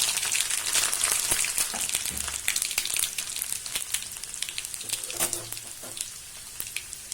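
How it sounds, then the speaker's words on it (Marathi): Mustard seeds, cumin and garlic sizzle hard in hot oil, a dense continuous crackle with scattered pops and spits, fairly loud and close with no voices. "आपलं तेल छान तापलेलं आहे त्यामध्ये मोहरी घालायची जिरं घालायचं लसूण घालायचं"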